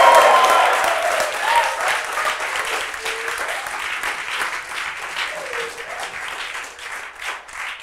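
Live audience at a talk on promoting autonomy over authority bursts into loud applause and cheering, dense clapping that fades slightly but stays sustained for about eight seconds with no one speaking over it.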